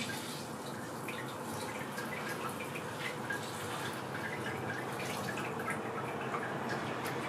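Water for a home brew of American IPA is poured steadily into a vessel, giving a continuous, even splashing rush that runs unbroken throughout, with no voices.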